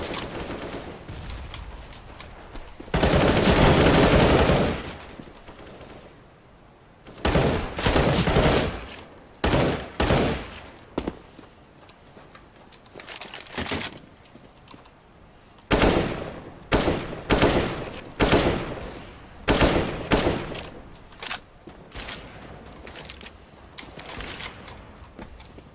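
Gunfire in Counter-Strike: Global Offensive, repeated bursts of rapid automatic shots and single cracks spread across the clip, loud and close, with quiet pauses between the volleys.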